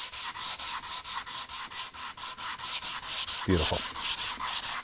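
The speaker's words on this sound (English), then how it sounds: "I'm going to use this sanding block" Rhythmic back-and-forth scraping of a sanding block worked by hand along a chamfer on a chunk of wood, steady strokes about four per second, close and loud, with a brief spoken word near the end.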